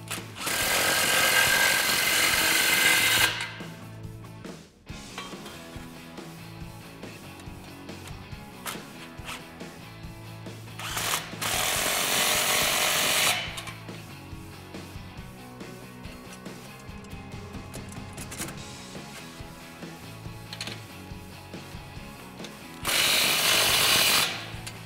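A power tool tightens the exhaust clamp on a 2011-2014 Ford F150 3.5L EcoBoost dual exhaust, heard as three loud buzzing bursts of a few seconds each, close up. Quieter shop noise fills the gaps between them.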